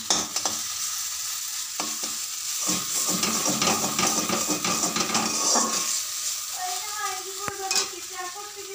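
Maggi noodles fry in a pan with a close sizzle while a utensil stirs and scrapes against the metal in irregular clanks.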